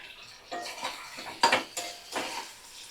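Spice paste and potatoes sautéed in a pan: a few separate bursts of spatula scraping and metallic clinks against the pan, close but fairly quiet, with one sharper clatter in the middle.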